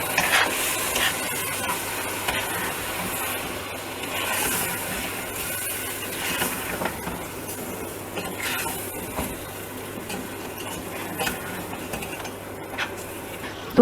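Beef and mutton haleem mixture roasting in a pot with black pepper, turmeric and garam masala, giving a steady soft hiss and sizzle with faint scraping clicks, fairly quiet and continuous with no talking.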